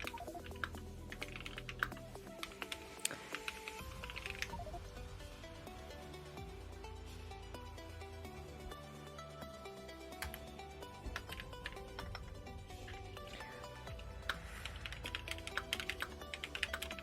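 Steady, dense clatter of computer keyboard typing runs throughout, fairly close, over a constant background of game music and hum, with no voices.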